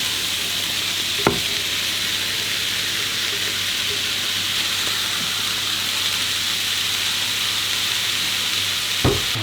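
Ground beef frying in a hot pan with onion and pak choi, a steady close sizzle with a couple of brief utensil knocks.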